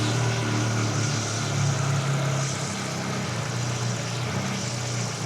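A small SRC 250 inline-twin 250cc motorcycle engine idles steadily at normal rpm, a continuous low droning rumble with no talk over it.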